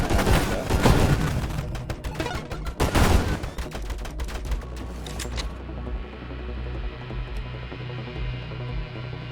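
Turrets in the space shooter game Nova Drift fire rapid, dense volleys of electronic shots for several seconds, then the barrage gives way to a steady synthetic hum.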